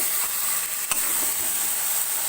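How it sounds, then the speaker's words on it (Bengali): Chicken coated with ground spices sautéing in a pan for hariyali chicken, a continuous close sizzle with one brief clatter of stirring partway through. "এটাকে ভালো করে কিছুক্ষণ কষিয়ে আমি দেখাচ্ছি"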